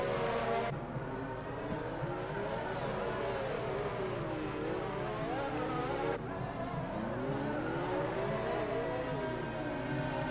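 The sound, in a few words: race cars at Monaco in F1 2019 video game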